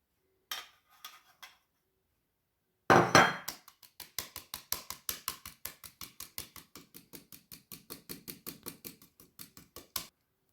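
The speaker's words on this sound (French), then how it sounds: "on va rajouter la farine qu'on va tamiser" A sieve is tapped over a bowl to sift flour for a chocolate fondant, giving a steady series of light, close clicks and taps after a short rattle. Everything is quiet, and there is no talk.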